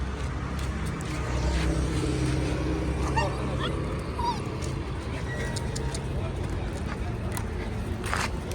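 Street dogs being fed let out faint whimpers and short yips, partly masked by steady outdoor noise and people talking nearby.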